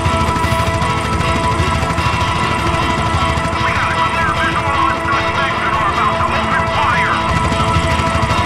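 A helicopter in a modded GTA San Andreas game gives off a steady, loud rotor drone with a chopping low-end pulse, continuous and close throughout.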